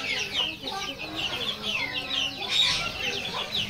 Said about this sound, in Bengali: এখানে দেশি মুরগি বাচ্চা রয়েছে